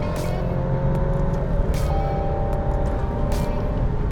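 A 2025 Alfa Romeo Stelvio Competizione engine drones steadily and loud from inside the cabin after a downshift, holding a sustained hum with a slight rise in pitch and no talk over it.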